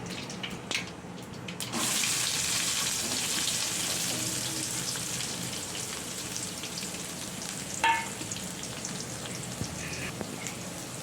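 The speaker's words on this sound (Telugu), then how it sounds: "ఆనియన్స్ ఫ్రై చేసుకోవాలి." Onions sizzle in hot oil for samosa filling, a steady hissing crackle that swells suddenly and holds, with a sharper spatter burst partway through, close and continuous.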